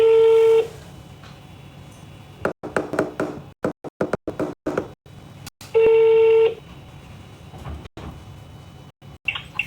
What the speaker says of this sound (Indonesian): Coba telepon lagi.